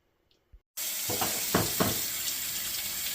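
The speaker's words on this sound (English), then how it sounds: "I run my jars under hot water to preheat them a little bit before I start putting oil in them." Hot water runs from a tap over glass jars in a kitchen where pork fat is being rendered into lard, a steady rushing stream after a couple of faint clicks, with brief splashy surges as the jars are moved under it.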